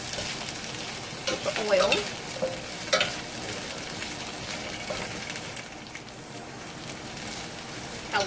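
Spicy vegetables toss and fry in a pan, a steady sizzle with scattered stirring scrapes and clinks, close and alone.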